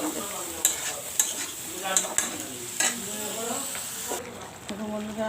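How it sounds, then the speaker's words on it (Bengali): Prawns cooking in a pan with yogurt, giving a steady frying hiss broken by a few sharp stirring clicks, close and moderately loud, with no voice over it. "চিংড়ি মাছটা তুলে দিলাম একটু"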